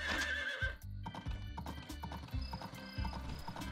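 Horse hooves clip-clop at a steady trotting rhythm in the farming video game Story of Seasons: Pioneers of Olive Town, with a brief whinny at the start and game music beneath.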